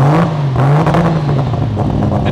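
A loud turbocharged RB30DET engine in an R34 Skyline with a full exhaust and wastegate dump revs nearby, its throaty exhaust rising and falling with a fluttering, rumbling tone.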